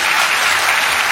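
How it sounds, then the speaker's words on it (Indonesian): Applause from a church congregation during a sermon, dense and loud, a steady wash of many hands clapping without pause through the short stretch. "Tepuk tangan dong biar saya juga semangat."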